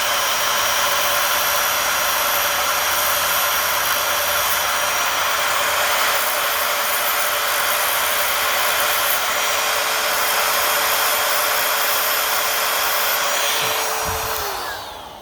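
Grinding stone sharpening the chain of a Stihl MS170 chainsaw, a loud steady high-pitched whine held for about fourteen seconds before it winds down at the end.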